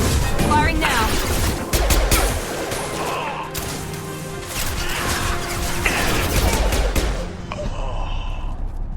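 Weapon fire in the video game Mass Effect, a string of sharp, loud shots and impacts cracking in quick bursts over a busy background of game sound effects.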